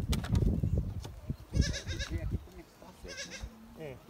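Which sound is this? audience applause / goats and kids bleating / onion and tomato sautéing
goats and kids bleating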